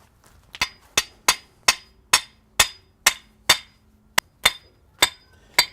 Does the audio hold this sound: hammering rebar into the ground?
yes